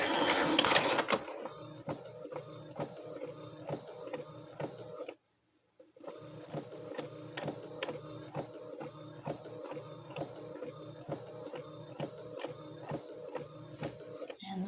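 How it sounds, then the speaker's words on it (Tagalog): A printer runs with a steady mechanical clatter and rapid rhythmic ticking, pausing briefly partway through before resuming. "itong printer pa yung eh, maingay"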